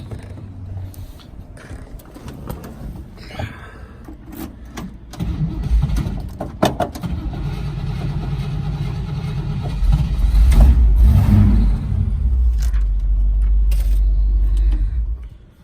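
A 1960 Chevrolet Impala convertible with a 348ci Tri-Power V8 cranks with a few clicks and bumps, then catches and settles into a deep, rumbling run that swells louder toward the end.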